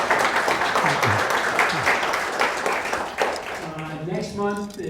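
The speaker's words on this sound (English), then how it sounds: "Let's give him a great round of applause." A seated crowd at a talk claps for a guest speaker, a full, sustained round of applause that thins toward the end as a voice begins speaking underneath.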